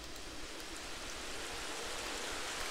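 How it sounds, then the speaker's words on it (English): Steady rain falls in a video game, a dense even hiss of downpour holding level throughout with no talk over it. "Okay, it's raining."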